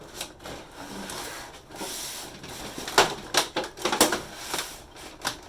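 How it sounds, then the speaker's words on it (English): A plastic blister pack holding a toy figure is pried open, giving close, loud crackling and rapid clicking snaps that grow denser and sharper toward the end. "opening up the main blister"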